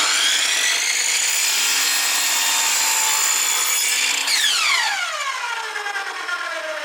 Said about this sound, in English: I've got the miter box set to 45 degrees, and I will make the first cut